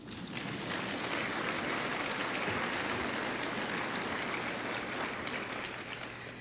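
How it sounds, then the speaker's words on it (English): A crowd at a State of the City address claps in a soft, diffuse, steady patter that sounds somewhat distant, sustained evenly for several seconds with a faint low hum beneath it. "And you can clap on that one."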